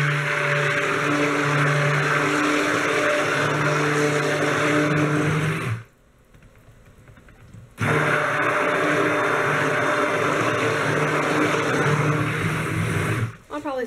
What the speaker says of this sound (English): I'll probably fast forward through a lot of stick blending